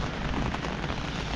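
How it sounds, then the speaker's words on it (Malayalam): Rain driven by wind at high altitude in the mountains, during a storm with hail, makes a brief dense steady hiss with no distinct drops. "ഇപ്പം മഴയാണ്."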